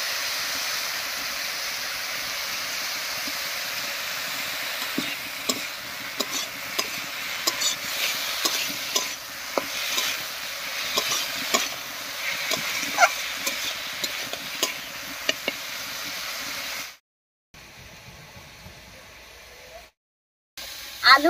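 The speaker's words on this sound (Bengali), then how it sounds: "আলু আর পেঁয়াজ ভাজা ভাজা হয়ে একটু রান্নাও হয়ে গেছে" Potatoes and onions frying with turmeric and salt, a continuous soft sizzle under repeated stirring scrapes and clinks, steady for most of the stretch before brief gaps near the end.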